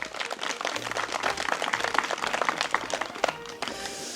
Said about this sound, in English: Let's give our sponsors and our parents a round of applause